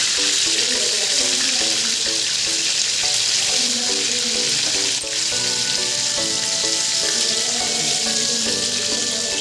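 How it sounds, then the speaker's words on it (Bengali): Eggplant slices fry in a pan with a loud, steady sizzle and crackle close by, joined by light regular clicks and occasional stirring, with no talk. "এই বেগুনগুলোকে আগে ভাজা করে নিই"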